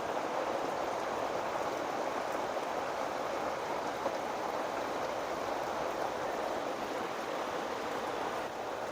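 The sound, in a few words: heavy morning rain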